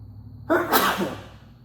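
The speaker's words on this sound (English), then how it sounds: "I gotta sneeze. Here it comes." A single loud, close sneeze bursts out after a moment of quiet, then trails off.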